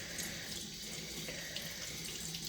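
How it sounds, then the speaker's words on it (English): Water running steadily from a sink tap while hands are washed, a continuous close hiss and splash with no talking. "We're waiting impatiently for her to finish washing her hands"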